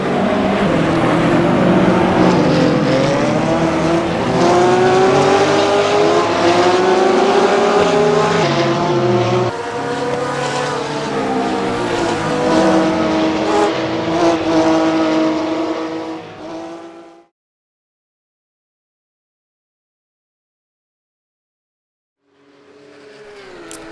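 Race cars from the rFactor 2 Challengers Pack drone loudly for about seventeen seconds with rising and falling engine pitch, then cut to silence before a brief burst of engine noise returns at the end.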